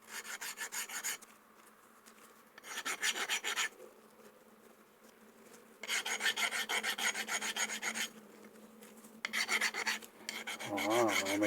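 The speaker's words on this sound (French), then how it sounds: "allez, un petit coup de lime" A hand file rasps across XC48 steel plate in several bursts of quick back-and-forth strokes, close and clear against a quiet background, with short pauses between passes.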